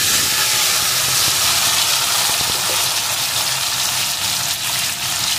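Chunks of gathi kochu (taro) go into hot tempering oil, giving a loud, steady broadband sizzle that hisses without a break throughout.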